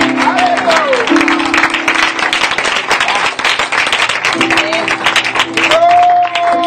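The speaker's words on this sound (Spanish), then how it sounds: "Den un aplauso fuerte al Señor." Loud congregation applause in church, offered to the Lord during a Spanish-language service: dense, energetic clapping from many people sustained for several seconds, with sustained tones from an organ or keyboard sounding underneath.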